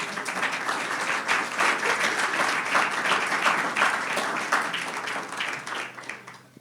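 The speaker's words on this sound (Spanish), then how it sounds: "¿Por qué no le da un buen aplauso al Señor?" A congregation at a Sunday church service applauds steadily for several seconds, a dense wash of clapping that holds even and then begins to fade at the end.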